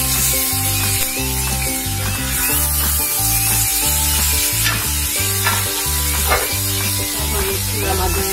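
Onion frying in hot oil with tempering spices for a Bengali chital fish curry, a dense continuous sizzle with stirring, loud and close under steady background music.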